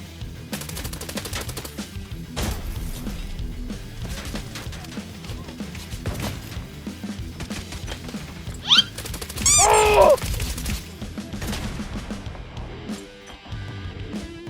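Rapid bursts of automatic gunfire from an MP9 in the shooter game Arena Breakout, sharp repeated shots with a few louder close bursts over a steady background of game sounds.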